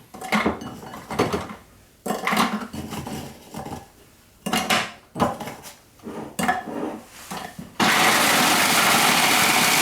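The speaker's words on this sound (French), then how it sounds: "On va commencer par mixer tous nos biscuits." Biscuits being crushed in a blender, short loud bursts of grinding and rattling broken by pauses, then a steady continuous whir of the motor at the end.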